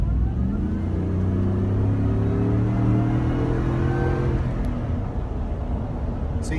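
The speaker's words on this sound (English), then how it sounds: "you can hear the nice whine of the supercharger as it's spooling up" A Roush Phase 2 Ford F-150 with a Flowmaster exhaust accelerates hard, its engine rumbling under a rising supercharger whine that climbs steadily in pitch over several seconds.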